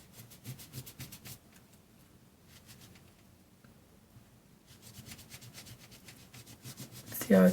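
A baby wipe rubs over silicone household caulk in quick, repeated back-and-forth scrubbing strokes, faint and close, with a brief pause before the rubbing resumes.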